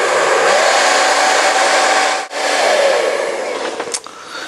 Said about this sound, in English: what you can use is a hairdryer, just to soften the ends of these particular pipes